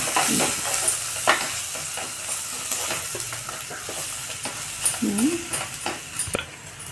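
Fenugreek dal with turmeric is stirred in a pan. There is a soft, close scraping and gentle sizzle with irregular spoon taps, fairly quiet throughout.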